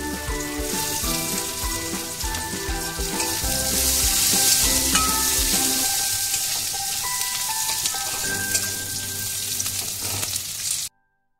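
Chopped garlic frying in a small amount of oil for a prawn and kochur loti dish, a steady close sizzle with crackling throughout and no talk, cutting off abruptly near the end.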